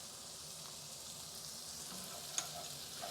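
Smoked paprika, cumin, chili powder, peri peri and thyme frying in a pan as they are stirred, a steady soft sizzle throughout with one brief clink near the end.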